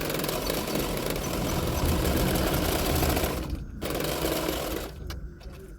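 A sewing machine runs steadily, stitching along the edges of the back part of a lined double katori blouse, a loud continuous whirring drone that stops briefly twice near the end.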